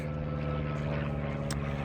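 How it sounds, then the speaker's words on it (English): A propeller airplane drones overhead on a walk near Wick and Pershore, a loud, steady engine rumble that fills the whole stretch with no voices. "Sorry about the plane."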